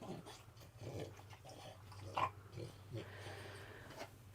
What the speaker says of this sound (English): You two, no barking.